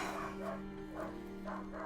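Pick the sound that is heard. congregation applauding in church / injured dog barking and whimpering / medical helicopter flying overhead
injured dog barking and whimpering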